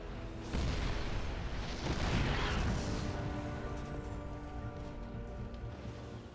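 Siege tanks firing in StarCraft 2: a heavy boom with a rumbling tail swelling early, followed by more muffled blasts and battle noise that fade to a steady low drone.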